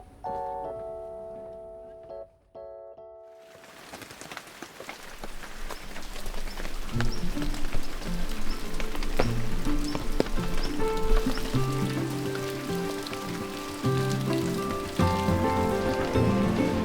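Steady rain falls across the old Turkish town of Safranbolu, a dense, continuous patter on surfaces that swells after a few seconds of quieter tonal sound at the start, with no talking.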